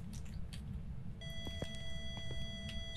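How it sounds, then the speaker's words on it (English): Electronic beeping from a phone inside a haunted building in Phasmophobia: a steady high tone sets in partway through, with a few short sharp blips and soft clicks, over a dull low background rumble, no voices. "It's the phone."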